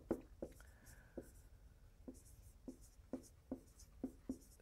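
Chalk or marker writing on a board during a physics lecture on quantized fields: soft scratchy strokes and a string of small taps, faint and intermittent, in a quiet room with no talk.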